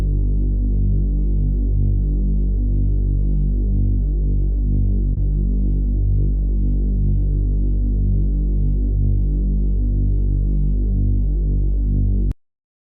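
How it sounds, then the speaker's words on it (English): A bass loop synth opens a track in a steady, throbbing low drone that pulses evenly and loudly, with no other sound, for about twelve seconds, then stops abruptly. "here we have the bass loop synth for the song that starts off the track, which will then be followed by the bouncy kick loop and the added cymbal crash FX"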